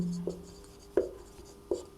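Pen strokes on paper during a maths lesson, three short distinct scratching taps spaced about three-quarters of a second apart, close and fairly quiet.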